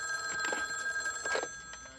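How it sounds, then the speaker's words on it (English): A telephone ringing in a scene from the movie Midnight Run, short repeated bursts of a bell-like ring under a steady hum, moderately loud and without talking. "And at the same time, Jimmy Serrano is calling."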